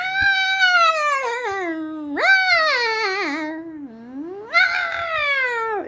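A human voice imitates a cat in heat with three long, wavering, whining yowls that rise and fall, loud and close, with no other sound.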